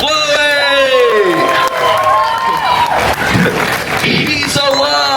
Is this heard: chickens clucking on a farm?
no